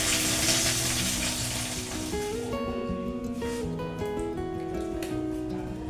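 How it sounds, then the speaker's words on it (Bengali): Tilapia pieces fry in hot oil for a cumbic jeera preparation, a loud continuous sizzle and crackle that settles down slightly midway, with faint background tones and no talking. "মাছগুলো সব ভাজা হোক"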